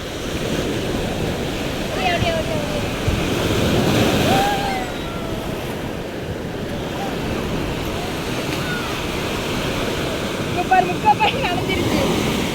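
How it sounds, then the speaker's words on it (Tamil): Ocean waves surge and break on Thiruvanmiyur beach in Chennai, a constant washing roar with a swell building and fading, mixed with wind buffeting the microphone and faint voices nearby. "அங்கே பாரு பெரிய அலையா வருது."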